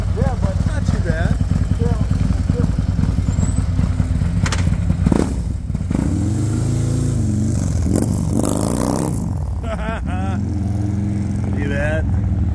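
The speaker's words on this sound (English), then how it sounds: "That engine isn't vibrating too bad." Harley-Davidson Street Bob motorcycle engine idling with a steady low rumble throughout, rising in pitch around the middle as it revs, while people talk over it nearby.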